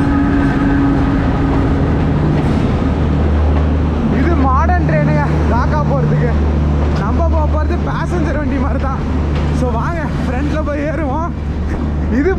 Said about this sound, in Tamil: இங்கே நம்மளுக்கு தாக்கா ட்ரெயின் வந்துக்கிட்டு இருக்குங்க